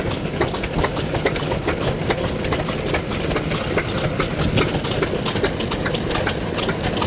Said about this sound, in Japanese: 久保田石油発動機 E 型